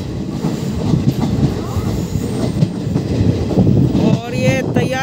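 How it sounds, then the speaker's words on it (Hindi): A Mathura-Jaipur passenger train picks up speed, its wheels rumbling and clattering loudly over the rails with a rising squeal of wheels near the end. "ये देखिए अब रफ्तार पकड़ रही है अपनी ट्रेन।"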